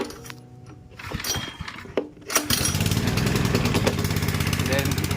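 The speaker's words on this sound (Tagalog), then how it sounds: "Para paandarin yung generator guys, kailangan na natin ng hilahin ng 3 beses" A generator is pull-started, with a few rough tugs and rattles before the engine catches and settles into a steady, loud running drone that continues to the end.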